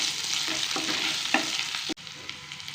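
Onions and a handful of curry leaves sautéing in a pan for mutton gravy, a close, steady sizzle with soft stirring scrapes, cut off by a sharp break near the end before the frying resumes more quietly.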